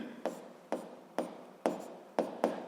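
Pen strikes and strokes on paper come as six short, crisp, evenly spaced scratches near the listener, each fading quickly into quiet.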